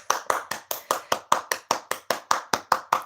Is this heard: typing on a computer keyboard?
no